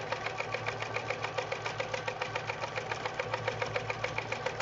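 A sewing machine stitches during free-motion quilting in manual mode, a fast even run of needle strokes ticking steadily over a low motor hum, close and alone.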